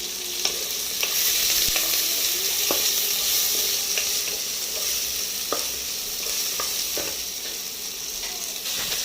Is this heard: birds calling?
no